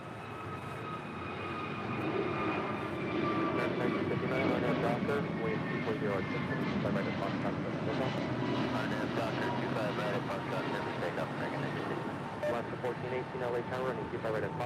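An American Airlines jet on short final for runway 25 left at Los Angeles International, its engine roar swelling and holding steady at a moderate distance, with tonal whine mixed into broad rumble and people talking over it.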